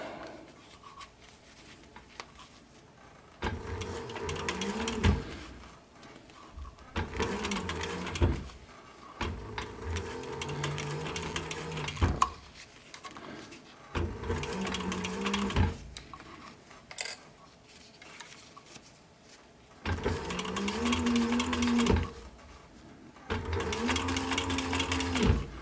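A cylinder arm sewing machine stitches a fabric sun visor in repeated bursts of fast, even mechanical whirring, each run a few seconds long with brief quiet pauses between, close and moderately loud.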